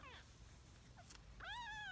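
Rescued foster kittens from a hoarding house mew in small, thin cries, a couple of short squeaks followed by one longer, rising meow, close but quiet.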